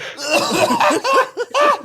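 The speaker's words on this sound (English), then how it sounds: "all of a sudden he gets a coughing fit during the podcast" A person coughs repeatedly in a harsh, rapid fit, several bursts close together, nearby and loud.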